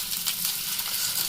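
Eggs coated in a light cornflour dusting fry in hot oil in a pan, giving a steady, close hiss and crackle of sizzling that runs unbroken throughout with no talking.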